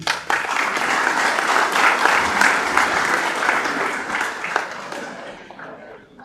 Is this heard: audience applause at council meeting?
yes